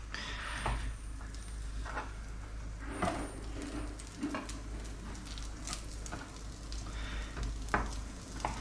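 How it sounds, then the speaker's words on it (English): Sliced chorizo frying in a pan, a steady close sizzle with its fat rendering, broken by occasional scrapes and clacks as the pieces are stirred and moved. "just pop it in a pan. And the fat will render, and then you'll get some delicious chorizo flavor onto your pan."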